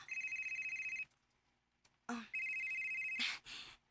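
A telephone rings with an incoming call in repeated electronic bursts, each a bright steady tone, close and fairly clear, with short pauses and a brief click between rings.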